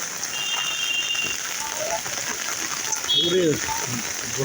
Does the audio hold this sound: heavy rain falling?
yes